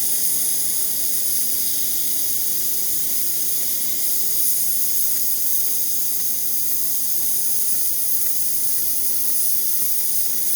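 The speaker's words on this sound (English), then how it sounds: "Nice strong steam." A loud, continuous hiss of steam blasting from a Breville Barista Express espresso machine's wand, steady throughout with no talking.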